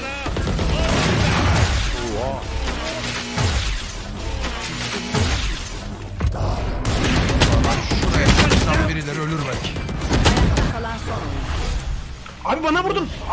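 Rapid bursts of gunfire from a Valorant match crack repeatedly, mixed with excited players talking over the shots.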